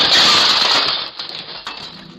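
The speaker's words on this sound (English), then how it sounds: "he throws a stone at the door's glass," A stone thrown at a door's glass pane breaks it, a loud close crash of shattering glass followed by fainter tinkling fragments settling.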